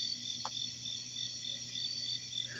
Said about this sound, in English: It just feels like there's way more crickets than normal